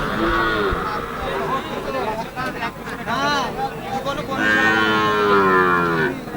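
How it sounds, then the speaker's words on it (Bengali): Cattle low repeatedly at a busy village market where Sahiwal heifers are sold, with long, loud moos close by and people chattering in the background. "গরু যাচ্ছে গরু যাক"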